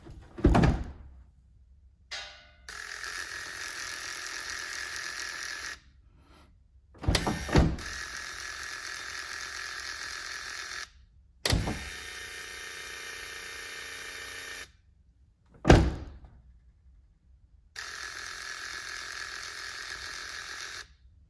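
Motor of an AMP Research retractable side step on a Toyota Tundra cycling repeatedly, a steady mechanical whir running in several bursts, each broken by a sharp thunk as the step stops, with short silences between.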